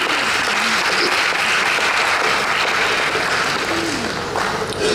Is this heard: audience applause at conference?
yes